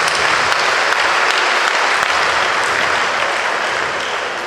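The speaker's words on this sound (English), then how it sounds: "I think he deserves a round of applause." Guests at a birthday party give the senator a round of applause, a loud, sustained burst of crowd clapping that stays dense and even, easing slightly toward the end.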